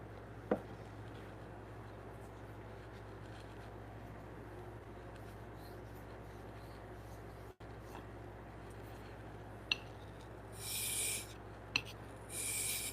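A hand plane's sole is rubbed back and forth on a 400 grit sharpening stone in a woodworking shop, a soft continuous rasping scrape with a few sharper clicks and brief hiss bursts near the end, no talk.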